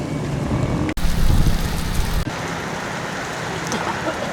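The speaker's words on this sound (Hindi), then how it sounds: "ये दोस्तों नौशहरा में बारिश शुरू हो गई है" Rain beginning to fall during a dusty windstorm at a roadside service station in Nowshera, a steady broadband hiss of rain with wind that stays loud and continuous, briefly cutting out twice.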